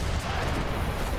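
Howitzer artillery fire in the video game Age of Empires III during the Battle of New Orleans, a dense, continuous rumble of booming cannon blasts with no clear gaps.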